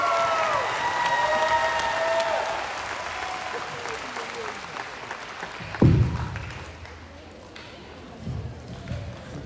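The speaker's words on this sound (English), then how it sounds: "round of applause for all the National Honor Society members." A graduation audience at a high school ceremony applauds National Honor Society members, clapping that swells early and then thins, with scattered thumps and shuffling near the end.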